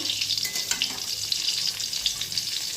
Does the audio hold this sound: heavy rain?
no